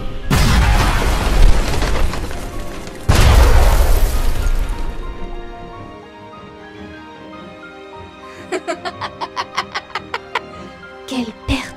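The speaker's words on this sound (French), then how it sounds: "Explosion du chaos!" Two loud, roaring explosion blasts rumble one after another, followed by quieter rapid popping bursts.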